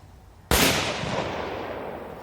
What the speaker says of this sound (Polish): nawet fajna, mocna petarda